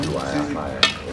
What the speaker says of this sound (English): Now you continue stirring it to make the flavor enter everything